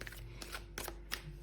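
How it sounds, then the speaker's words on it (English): A deck of oracle cards is shuffled by hand at close range, giving a few quick, soft papery riffles and taps over quiet room tone. "So I'm just going to do a bit of a shuffle."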